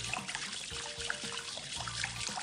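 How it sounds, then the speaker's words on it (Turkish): Hot water with salt being stirred until it dissolves for a mixed pickle brine, heard as soft, faint trickling and sloshing close by with small clinks, quiet throughout. "İyice tuzlar eriyene kadar sıcak suyun içerisinde karıştırıyoruz"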